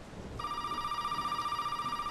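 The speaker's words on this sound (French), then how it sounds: "Ah, téléphone." Telephone ringing in a horror video game based on The Texas Chain Saw Massacre: a steady electronic trill that starts abruptly and continues evenly, fairly close and clear, with no talk over it.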